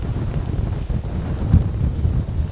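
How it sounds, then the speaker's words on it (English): Strong wind buffets the microphone in a continuous low roar with gusty surges, loud and steady throughout with no voices. "It is so windy."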